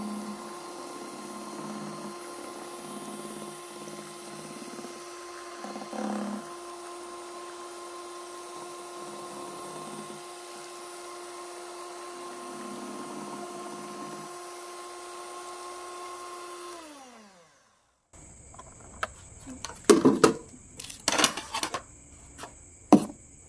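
An electric hand mixer whirs steadily as it stirs a chocolate ice candy mixture of melted powdered chocolate, a close, even motor hum that runs for several seconds, winds down and stops, followed by clattering knocks against the bowl.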